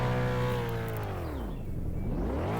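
A vehicle in the game Emergency Hamburg is made to break down, giving a loud engine drone whose pitch sweeps down, dips, then partly rises again, heard alone and continuous.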